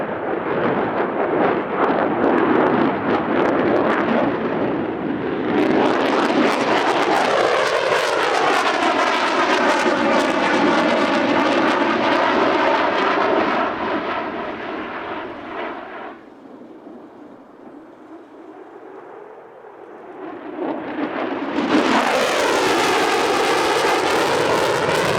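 A fighter jet flies an airshow display, a loud, sustained roaring engine rush with sweeping Doppler pitch changes, dipping to a quieter passage before surging again near the end.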